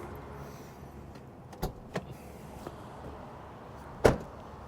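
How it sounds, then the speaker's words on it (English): Trunk of a 1995 Toyota Camry ZX V43, a 4WD manual Japanese-market model, being popped open: a couple of soft mechanical clicks, then a single louder clunk near the end over quiet background. "Well, we'll pop the trunk."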